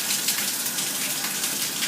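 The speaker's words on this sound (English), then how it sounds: "this is my outside shower" Water streams steadily from a homemade outdoor shower, a constant close hiss and spatter of falling water with no pauses, loud and unbroken throughout.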